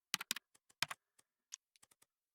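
Short bursts of key clicks on a computer keyboard, a quick cluster of presses followed by sparser single taps, close and fairly quiet with no talking.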